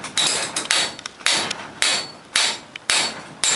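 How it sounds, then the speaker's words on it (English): Hammer tapping a part along a rusty garage door torsion shaft, close and loud, with sharp metallic strikes landing in an uneven rhythm, about a dozen in under four seconds. "I finished tapping this over and got it pretty close to the pulley"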